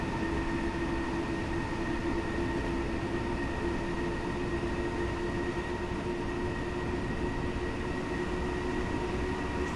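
A DB BR426 electric multiple unit in Train Simulator 2020 runs at full speed, around 120, as a steady, continuous rail rumble with sustained whining tones and no pauses.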